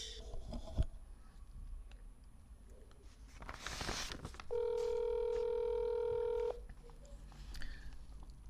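A telephone call is dialed to Kinshasa: a click and rustle, then a steady dial tone holds for about two seconds before stopping, fairly quiet against a faint room hum.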